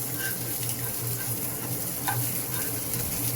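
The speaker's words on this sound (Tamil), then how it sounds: "வெங்காயம் போட போகிறோம்." Onions sizzle and fry in a pan for a South Indian chutney, a steady close crackling hiss with faint stirring clicks and no talk.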